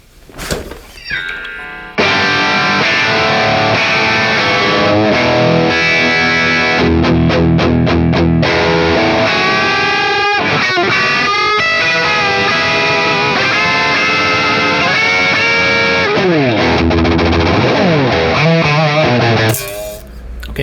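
Electric guitar run through a Hotone Ampero II with distortion and chorus: loose, messy playing of saturated chords and bends, loud and continuous for about seventeen seconds, with a short thump at each end and no talking.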